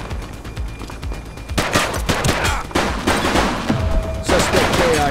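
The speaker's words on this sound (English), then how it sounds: "Shots fired!" Gunfire during a shootout in The Precinct: bursts of rapid automatic fire and single sharp shots crack repeatedly at close range, growing denser partway through, with a faint voice briefly underneath.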